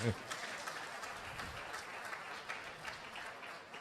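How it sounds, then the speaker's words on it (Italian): An audience at an Italian conference on beef quality applauds a speaker, a soft, steady patter of many hands heard at a distance, faint and even throughout. "E un grande applauso a Tassinari perché..."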